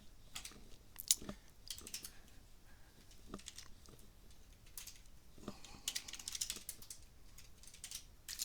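Quick, uneven bursts of clicking keys as a web address is typed on a computer keyboard, fairly quiet and close, with short pauses between runs of keystrokes and no talking.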